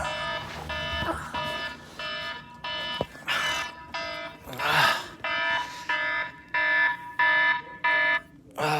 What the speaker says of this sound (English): Maybe that's your alarm.